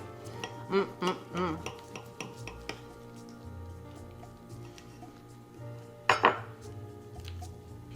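A knife and fork cut through a pork chop on a plate, giving a few scraping clinks and a soft squish, then a brighter clatter of cutlery against the dish, all near and with no talking.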